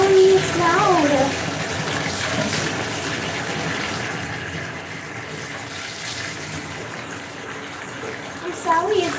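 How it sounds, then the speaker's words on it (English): Warm tap water gushes steadily into a bathtub for a rescue dog's bath, a continuous splashing rush filling the whole stretch, with a person speaking softly over the start and again near the end. "Let me get the water started."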